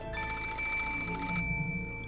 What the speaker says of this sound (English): there's a phone ringing, and we're gonna keep going here